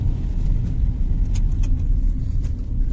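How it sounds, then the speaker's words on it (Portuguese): A car during a driving lesson accelerates up a hill and shifts into second gear, its engine a steady low rumble close by with no talk over it. "Vai, acelera e puxa a segunda."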